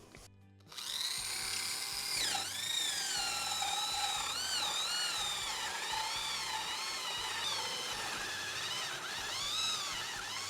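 Power drill boring into old 3/4 inch pine with scrap wood underneath on a workbench, a steady loud whine with shifting pitch running almost the full length after a brief quiet start.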